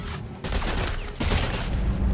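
Rapid gunfire in Dead Space 3, loud dense bursts of shots filling the whole moment with a brief gap between volleys, no voices.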